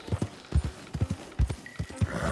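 Rhythmic horse hooves clip-clopping at a steady riding pace in Red Dead Redemption 2, heading along a road toward the town of Strawberry; close, regular thuds with a faint snort near the end.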